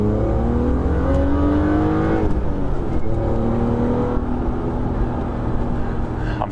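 A BMW E36 M3 engine pulls hard in second gear through a neighborhood, a steady rising drone heard from inside the car with the pitch climbing, dipping briefly at a shift point, then climbing again.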